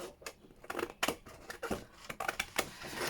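Scissors snip through paper tags for a ring-bound junk journal in a rapid run of crisp, close cuts with a slight rustle of paper and no talk.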